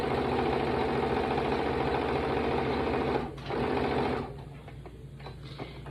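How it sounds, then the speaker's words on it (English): A sewing machine runs at a steady buzzing hum as it stitches two quilt squares together for a star quilt. It pauses briefly near the end before a softer, quieter whir finishes the seam. "I go ahead and sew that together."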